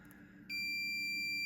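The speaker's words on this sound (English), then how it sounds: "You'll get a little beep like that when it goes across the resistor" A multimeter in continuity mode gives a single sharp, steady electronic beep that starts abruptly and holds at a constant pitch, close and clear over a faint background.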